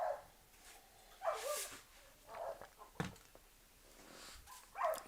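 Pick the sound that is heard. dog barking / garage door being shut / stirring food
dog barking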